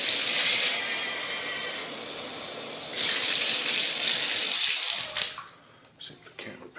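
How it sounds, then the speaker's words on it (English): Tap water gushes steadily into a clean jug, a loud continuous broadband rush that shifts in tone partway through as the jug fills, then tapers off into quieter splashes and handling. "Turn on the water."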